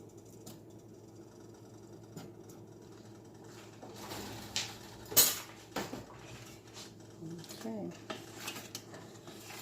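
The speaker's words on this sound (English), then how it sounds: "And we're going to stir this up." Butter stirred in a pot for old-fashioned popcorn balls: a spoon scrapes and clinks against the metal in irregular bursts over a low background hum, close by, with a brief spoken word.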